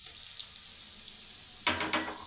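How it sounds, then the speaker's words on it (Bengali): Chopped onion, ginger and green chili fry in a pan with a soft, steady sizzle that swells into a louder burst of crackling partway through, with no voices. "আদা কুচি আর লঙ্কা কুচিটা পেঁয়াজের সঙ্গে কিছুক্ষণ ভেজে নিতে হবে"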